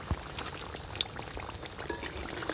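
Oil bubbling and crackling steadily in a pan while bajji fry, a close, continuous sizzling fizz with small scattered pops and no voices.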